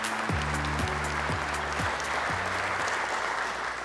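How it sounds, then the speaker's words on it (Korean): An audience at a government policy announcement event applauds, a steady, dense clapping that holds throughout. Low sustained musical tones play underneath. "큰 박수 부탁드리겠습니다."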